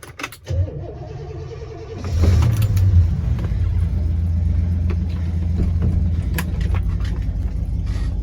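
A car in for cracked-paint and body filler repair starts up and rumbles steadily as it is driven into the workshop, its engine loud and close throughout.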